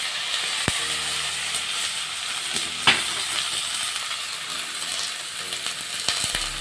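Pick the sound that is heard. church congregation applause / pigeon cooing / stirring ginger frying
stirring ginger frying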